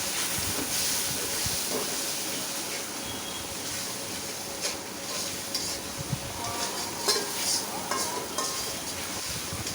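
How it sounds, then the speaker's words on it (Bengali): Spice paste sautéed in a pan with a little water makes a soft, continuous hiss and sizzle. Spoon scrapes and stirring grow busier toward the end, the sound is close, and no one speaks. "সামান্য জল দিয়ে আবার মশলাটা কষাবো।"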